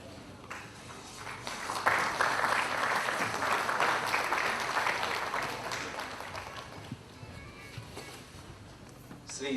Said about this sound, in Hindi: आपसे आग्रह करता हूं कि जोरदार तालियों से आप उनका स्वागत करें